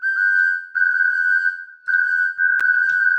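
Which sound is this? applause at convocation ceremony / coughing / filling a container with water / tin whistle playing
tin whistle playing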